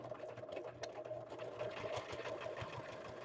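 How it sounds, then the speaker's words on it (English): A sewing machine backstitching runs in a steady, dense mechanical whir with a rapid needle chatter. It stays close and continuous throughout, with no talk. "I remembered to backstitch to sew at the beginning."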